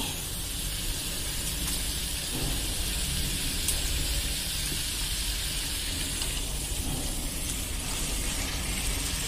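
Fried eggplant bhaji sizzles in a pan for a Marathi dry vangyachi bhaji recipe, a continuous, even hiss of frying with faint clinks now and then and no talking.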